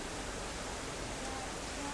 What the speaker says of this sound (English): you got the waterfall behind us, the ambiance, the sound